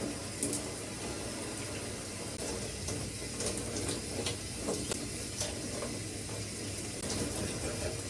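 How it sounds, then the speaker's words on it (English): Something is rinsed under a running sink tap. Steady close water hiss and splashing continue throughout with small shifting spatters. "let me rinse this off"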